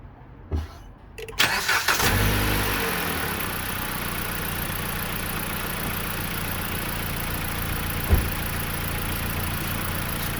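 A 2020 Dodge Journey with a 2.4 gasoline engine cranks briefly, catches and settles into a steady, even idle close by, with one small clunk partway through and no talking.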